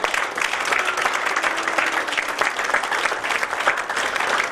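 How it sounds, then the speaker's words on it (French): Sustained applause from a church congregation during a French-language sermon, a dense, steady wash of clapping lasting throughout without pause. "Acclamez"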